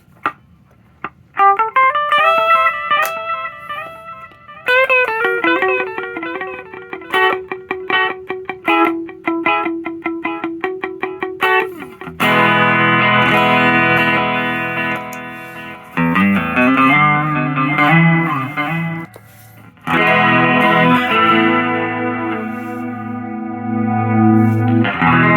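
A small 5 watt solid-state guitar amp plays electric guitar, moving from clean, echoing picked notes into louder, distorted, gain-heavy chords and riffs with effects such as chorus and reverb.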